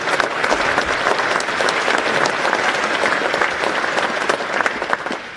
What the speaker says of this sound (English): Round of applause for Kim Key.